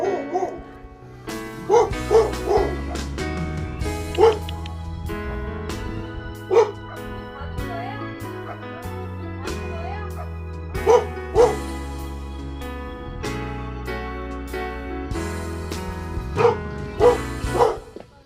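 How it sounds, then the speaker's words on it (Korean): Small dog inside a cozy cafe with a fireplace gives repeated sharp barks and yips in scattered bursts over continuous background music, fairly close and loud. "강아지 있다."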